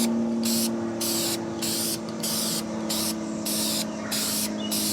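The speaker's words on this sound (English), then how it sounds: "So what you want to do is you want to start spraying, kind of spray them around." A spray can hisses out about eight short, even bursts of paint onto car wiper arms, each lasting roughly half a second, close and loud over a steady low hum.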